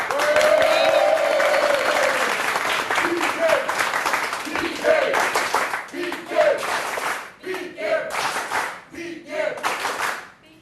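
A TV game show studio audience applauds in a sustained, dense wave of clapping that rises and falls in bursts, while a host talks over it.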